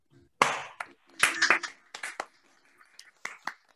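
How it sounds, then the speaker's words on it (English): Online meeting participants, unmuted, give scattered, uneven claps in a few separate bursts with quiet gaps between them, close and thin rather than a full crowd. "Would everybody like to unmute and give Claire and Nikita a big round of applause"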